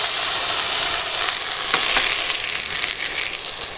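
Water hits hot oil in a cooking pan and sets off a loud, continuous sizzle and hiss that carries on steadily with no talking.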